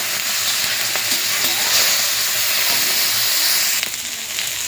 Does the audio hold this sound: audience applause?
no